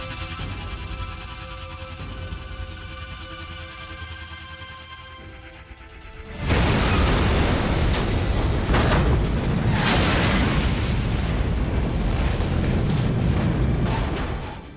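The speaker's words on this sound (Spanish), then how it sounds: "Vamos a coger 100 gramos y vamos a colocarlos encima de la lavadora. Colocaremos un detonador dentro y veremos qué ocurre." A quiet hum gives way to a sudden loud boom as 100 grams of plastic explosive detonates on a washing machine, sustaining as a roaring, rumbling blast and debris noise for several seconds.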